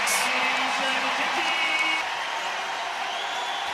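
Basketball crowd at the Charles Koch Arena in Wichita, Kansas, roaring and cheering as one steady, loud wash of noise under a commentator's voice after a tying basket.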